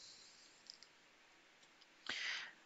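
Keyboard key presses and mouse clicks on a computer while editing in Adobe Premiere Pro: a few faint, light ticks early on, then a louder, brushy clatter near the end, with no talk.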